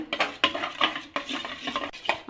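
Sour yogurt starter being beaten in a bowl for sweet curd, with a utensil scraping and tapping against the bowl in quick, irregular strokes, close and moderately loud, with no voices.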